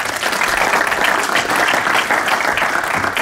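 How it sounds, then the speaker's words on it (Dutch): Sustained audience applause at an evening talk event, as a speaker is welcomed to give a Pecha Kucha presentation; dense, steady clapping from a crowd, loud and continuous throughout with no talking. "Applaus voor Merlijn Twaalfhoven."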